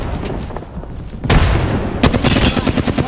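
Grenade blast and rapid gunfire in the Apex Legends shooter: a loud booming burst followed by a quick string of sharp shots, close and punchy, with no talk.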